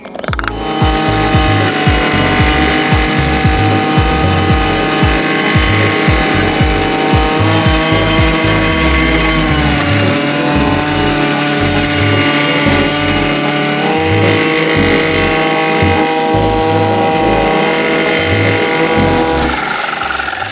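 A Dnipro-M 50RX petrol brush cutter with a 24-tooth disc cuts tall grass, its two-stroke engine whining loudly and steadily at high revs with pulsing low thumps, close up, easing off near the end.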